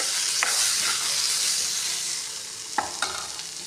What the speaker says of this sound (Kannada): ಚಲೋ ಹೊತ್ತಾಗೆ ಫ್ರೈ ಮಾಡ್ತೀನಿ ನೋಡ್ರಿ